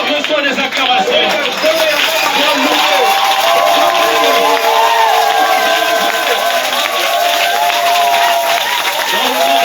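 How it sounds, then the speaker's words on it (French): A church congregation applauds and cheers in acclamation, a continuous roar of clapping and voices filling a large space, with a speaker's voice rising over the crowd. "Seigneur, reçois les acclamations."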